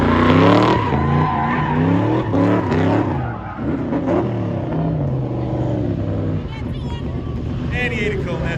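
Tom Smiley's Corvette runs hard at the Pro X Shootout during the Goodguys Colorado Western Nationals, with loud engine roar and tire squeal throughout while an announcer talks over it.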